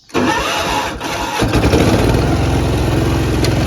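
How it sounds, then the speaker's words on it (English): The engine of a 1978 Allis Chalmers 716 Hydro garden tractor cranks loudly for about a second and a half, then catches and settles into a steady, close, pulsing idle. "give it a little bit of gas, and you just got to crank it."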